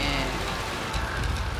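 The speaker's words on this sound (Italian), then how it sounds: "Ma poi piove a dirotto." Heavy downpour in the video game Trek to Yomi, a dense, steady hiss of rain hitting surfaces, loud and continuous throughout with low rumbling underneath.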